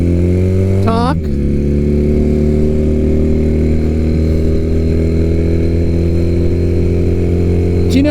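A motorcycle rides along with a steady, loud engine drone throughout, a quick rev near the start and another at the very end, with someone talking over it.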